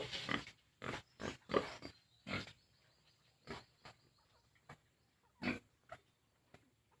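A young breeding sow on a farm gives a series of short, low grunts at irregular intervals, fairly close and alone with quiet gaps between them.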